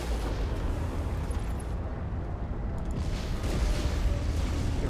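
Dense, continuous roaring rumble of gunfire and explosions in Mass Effect co-op, with thudding bursts swelling and easing over a constant loud din.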